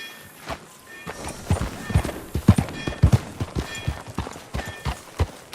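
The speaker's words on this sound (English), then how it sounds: "here is John's new favorite horse" Horse hooves clip-clop in an uneven walking rhythm in the video game Red Dead Redemption, fairly close, with a few soft voice sounds mixed in.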